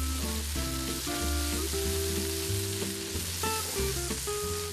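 Vegetable pancake batter sizzles steadily in a hot pan, a continuous frying hiss with scattered pops, overlaid by sustained tonal music, and no one speaking.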